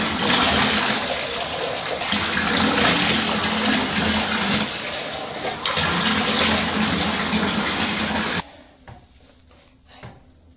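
Water runs steadily and loudly into a tub while a husky mix and a copper golden retriever are bathed. The rushing stream fills most of the clip, then cuts off, leaving a few faint splashes and drips.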